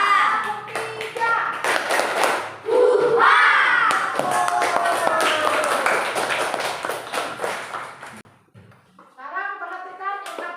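A classroom of children claps hands together in a teacher-led rhythm game, bursts of sharp, loud claps mixed with shouts and chatter from the group, ending with a brief pause and then some singing-like voices.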